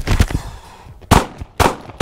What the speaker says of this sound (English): fire 5 rounds, go to slide lock, reload, and fire 5 more rounds